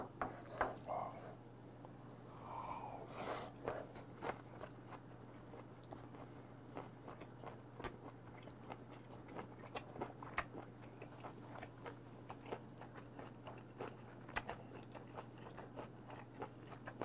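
Someone quietly chews fermented skate, chewy octopus and aged kimchi, soft wet bites and small crunches repeating steadily under a low constant hum, with occasional clinks of dishes.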